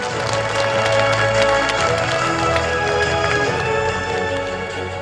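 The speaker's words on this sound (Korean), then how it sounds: "큰 박수 부탁드립니다" Sustained applause from a large audience at a provincial government ceremony, a dense wash of clapping that holds steady throughout with a low murmur of the crowd underneath.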